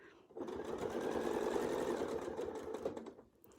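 A sewing machine stitches a quilt guided by circular wreath ruler templates, running steadily for about three seconds at close range, with a brief pause and restart at the start and a tapering finish.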